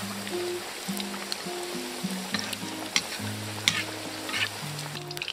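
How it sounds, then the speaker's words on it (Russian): Steady sizzling of Belarusian kolduny frying in a pan, with occasional sharp pops and crackles over a constant hiss; a low hum runs underneath. "И обжариваем."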